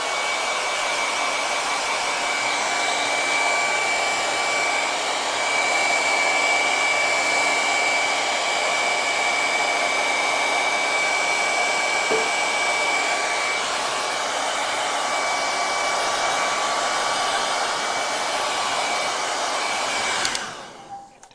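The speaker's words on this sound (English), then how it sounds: "Actually, I'm going to hair dry it, so plug your ears." Handheld hair dryer blowing steadily over a fresh acrylic sunset painting, a loud, constant whirring hiss held for about twenty seconds before it switches off abruptly.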